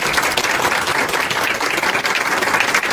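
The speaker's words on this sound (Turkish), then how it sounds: "Sahne alkış." An audience applauds a school stage performance for World Theatre Day, with steady, dense clapping from many hands filling the room without a break, fairly loud and with no voices over it.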